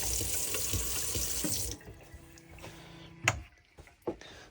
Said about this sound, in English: pump switch on, and we've got pressurized water.